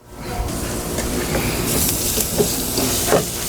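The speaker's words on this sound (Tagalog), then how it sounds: "So, gisa natin mauna yung bawang." Garlic sautéing in hot oil in a pan, a steady loud sizzling hiss with small crackles that swells slightly over a few seconds.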